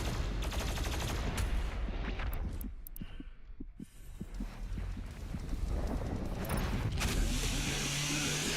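The BFG 10,000 in Doom Eternal fires with heavy rhythmic thuds amid a dense roar; the noise briefly thins midway before surging back to full loudness.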